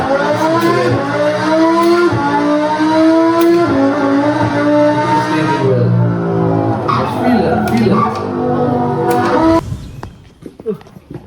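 A McLaren 650S with a twin-turbo V8 revs loudly and steadily, its engine note rising and falling for about ten seconds before cutting off abruptly.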